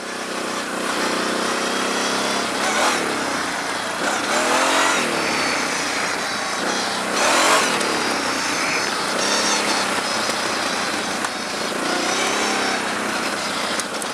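A quad ATV engine revving hard during an off-road ride, a loud, close, continuous roar that surges and drops with the throttle, with no voices over it.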